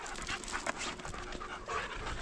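A dog pants quickly and steadily close by, rapid breathy huffs with a faint whimper, no voices.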